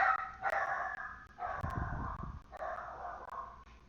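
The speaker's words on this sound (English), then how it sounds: "My dog yells all day," A pet dog barks in a few drawn-out, yowling calls separated by brief gaps, heard indoors at moderate distance with no speech.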